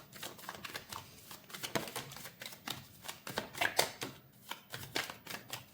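A deck of tarot cards being shuffled close by, with quick, uneven flicking and slapping bursts as cards slip and drop from the deck, no voices.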